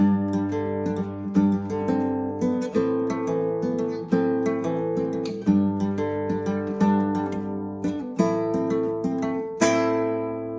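An acoustic guitar strums the chorus chords of a song in a steady rhythm, full and close, with a strummed pattern repeating and a final ringing chord.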